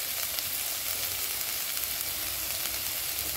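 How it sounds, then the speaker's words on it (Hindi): Vegetables for oats khichdi frying in a pan, giving a steady, loud, even sizzle and crackle throughout with no voices. "जैसे जैसे सब्जियाँ थोड़ी थोड़ी भुन चुकी हैं।"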